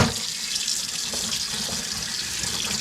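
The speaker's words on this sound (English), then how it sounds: "Rinse them one more time." Tap water running steadily over wild rhubarb stalks being rinsed in a sink, a continuous close splashing hiss with no voices.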